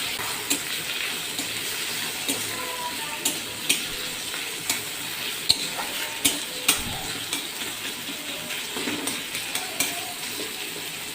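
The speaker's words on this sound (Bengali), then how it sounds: "তাতে ফোড়ন দিয়ে দেওয়া হলো এবং বেটে রাখা আদাটাও দিয়ে একটু ভাজা ভাজা করে নিতে হয়।" Spices and ground ginger tempering in hot oil for homestyle Bengali shukto, a steady close sizzle and crackle broken by regular light stirring scrapes across the pan.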